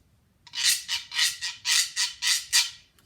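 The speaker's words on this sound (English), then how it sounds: "Or scraped, such as a güiro." Güiro being scraped in about seven rasping strokes in quick even rhythm, close and bright, alone after a brief quiet start.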